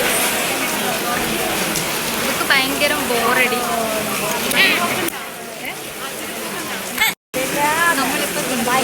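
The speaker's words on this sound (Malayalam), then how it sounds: "നല്ല മഴയാണ്" Heavy rain pours steadily at a temple as a dense hiss that runs the whole time, with a brief cut near the end. People talk over it now and then.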